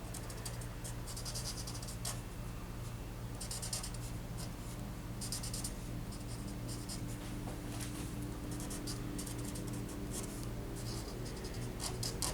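Pencil scratching steadily across paper while sketching wavy and straight lines for a Loki drawing, a close, continuous dry scraping with small strokes and pauses over a low steady background hum.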